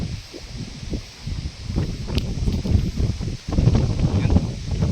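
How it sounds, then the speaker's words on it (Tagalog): Strong typhoon gusts rush and roar through tall tree foliage in uneven surges, loud and close, with leaves rustling. "So, sobrang lakas ng hangin."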